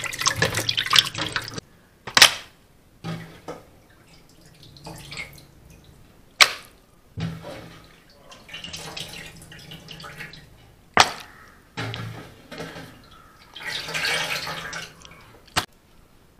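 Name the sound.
washing raw liver in water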